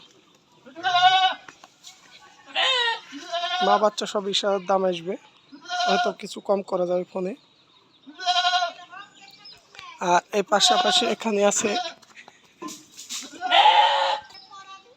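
Goats bleat on a livestock farm, including pregnant does and kids: several loud, wavering bleats close by, scattered across the clip in bursts between stretches of someone talking.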